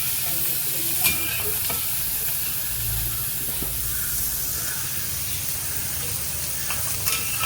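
Chopped onion, ginger and green chilli fry in hot oil for a bonda, giving a steady, dense sizzle throughout, with occasional scraping and clinking from stirring.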